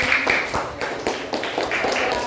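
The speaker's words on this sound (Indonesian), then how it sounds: "kita berikan tepuk tangan pada kelompok auditor" Classroom applause for a presenting group: a short burst of scattered hand clapping from a group of students, loud and close, with no talk over it.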